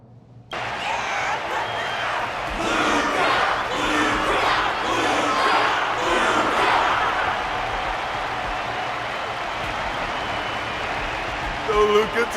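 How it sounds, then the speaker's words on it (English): Arena crowd applauding and cheering in the video game Luminary Wardance, a sustained wash of clapping and crowd noise that holds steady throughout, with a few louder bursts at the end. "The audience's passion stays strong. Their constant applause is a salute to this resilient Belabogian fighter."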